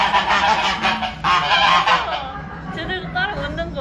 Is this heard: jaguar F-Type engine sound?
no